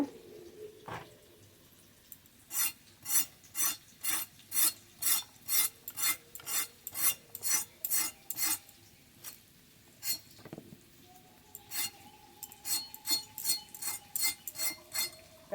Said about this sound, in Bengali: সব পটল এই একইভাবে আঁচড়ে কেটে নেব